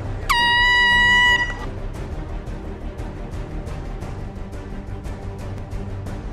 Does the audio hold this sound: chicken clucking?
no